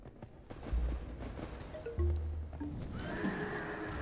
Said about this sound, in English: Why is there a horse here?